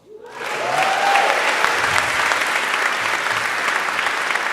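A crowd at a church community meeting bursts into applause that swells within half a second, then holds as loud, dense, continuous clapping to the end.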